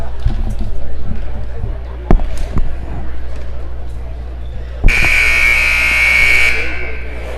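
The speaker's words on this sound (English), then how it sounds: "the buzzer's going to ring here in a minute" A loud electronic buzzer blares for nearly two seconds in a school gymnasium before a girls' high school basketball semifinal. A commentator talks and a crowd murmurs throughout, with a few sharp thumps before the buzzer.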